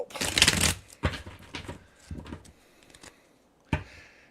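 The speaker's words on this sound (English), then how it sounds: "Let me shuffle my deck" A tarot card deck is shuffled by hand in a few quick riffling bursts, each followed by soft taps and slides of cards, close and fairly quiet with no talking.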